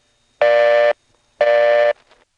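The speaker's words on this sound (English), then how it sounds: "You might have noticed the supervision flash there." Two identical electronic tones on an independent-company telephone line in Asheboro, North Carolina, heard right after an intercept recording, each lasting about half a second and separated by a short gap, loud and clean with no talk.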